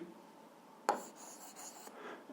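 A pen or pencil scratches on paper while a physics problem's given values are noted down, a faint, close scribbling that starts abruptly and runs on in short strokes.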